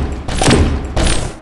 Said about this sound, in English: Try the spruce pistol, see how many shots it needs to make a kill.